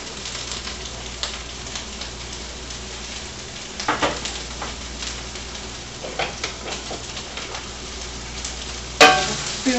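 Celery and thinly sliced carrots sizzle steadily in a hot pan, with a constant frying hiss and occasional stirring clatters, close and alone.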